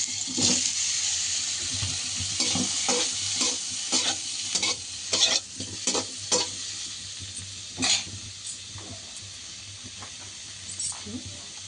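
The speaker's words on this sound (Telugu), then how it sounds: "నెయ్యి కొంచెం వేసుకొని దాంట్లో పన్నీర్ ముక్కలు" Paneer pieces fry in ghee with a soft, close sizzle, broken by scraping stirs and clinks in an irregular rhythm, with a faint running-water hiss underneath and no talking.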